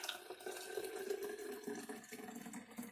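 Fresh carrot juice streams from a whole-fruit extraction juicer into a container, a steady soft liquid pour with faint splashing that carries on throughout at low volume.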